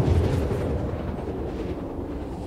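Ship weapons in the Star Citizen space game open fire on enemy turrets, a dense, continuous rumbling barrage of booming shots that stays loud and steady throughout, with no talking.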